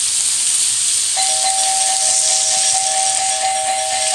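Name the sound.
doorbell ringing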